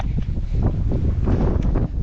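Strong wind on Mt. Marami buffets the microphone in a continuous low, rumbling roar, close and fairly loud, with no clear voices.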